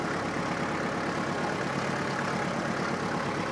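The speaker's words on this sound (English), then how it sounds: "Park the tractor." Tractor engine idling on a small homestead, a steady, continuous mid-to-low mechanical drone with no changes in speed, heard close and alone.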